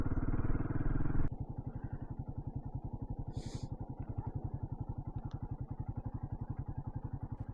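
Himalayan 450 motorcycle cruising on an empty highway, a steady close engine drone with rapid regular pulsing and wind, louder for the first second then settling into a constant rhythmic thrum.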